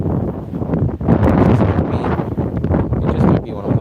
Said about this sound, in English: it sounds like this wind is so fierce